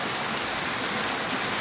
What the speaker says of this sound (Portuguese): Uma outra queda de cachoeira.